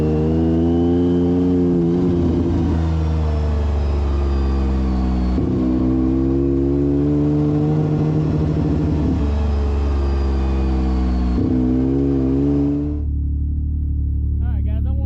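A Yamaha YXZ1000R side-by-side idles while warming up, a steady loud mid-pitched engine drone with a few brief dips in pitch, running close by before it cuts off near the end.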